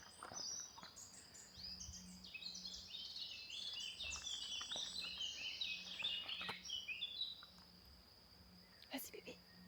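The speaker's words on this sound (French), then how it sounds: "Juste le chant des oiseaux." Birds sing and chirp outdoors beside a stream, a dense layer of high twittering calls running through most of the stretch over a steady low wash of background noise, fading somewhat near the end.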